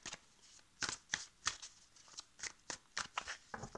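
Oracle tarot cards being shuffled by hand, a run of crisp riffling bursts in an uneven rhythm, close and fairly loud with no talking.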